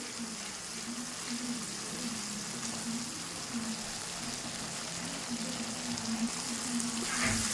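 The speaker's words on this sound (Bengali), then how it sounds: "গ্যাসের ফ্লেমটা কম করে দিয়ে আস্তে আস্তে করে পুরো মশলাটা ভালো করে ভেজে নিতে হবে" Tomato and spice masala fries over a low gas flame in a pan, giving a steady, even sizzle that continues throughout with no talk over it.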